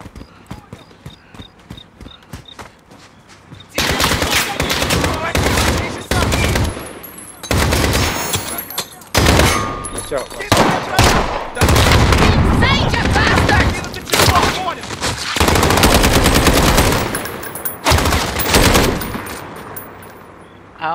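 Rapid bursts of automatic gunfire from a Call of Duty Warzone match, Special Ops night mode, loud and dense in clustered volleys through most of the stretch with brief gaps between them.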